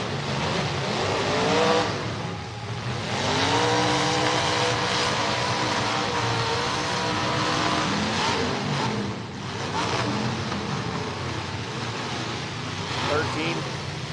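Station wagon engine roaring steadily at a demolition derby, loud and continuous with revving swells and crowd or commentary voices talking over it.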